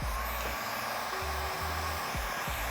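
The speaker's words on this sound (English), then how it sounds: "I'm gonna use the heat gun like this." A heat gun blowing hot air onto paint protection film on a Tesla Model Y hood, a steady close airflow hiss with low bumps and knocks from handling.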